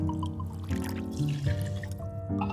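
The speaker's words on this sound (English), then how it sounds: "Begin with Grey Goose Vodka." Grey Goose vodka poured into a cocktail glass or shaker, a soft liquid trickle heard under a steady music bed.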